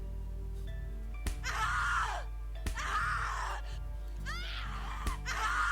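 Screams and anguished cries from a character in the horror video game The Cat Lady, several loud, drawn-out wails separated by sharp hits, over a steady low game drone.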